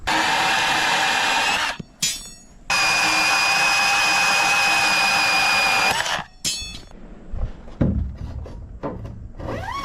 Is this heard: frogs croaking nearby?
no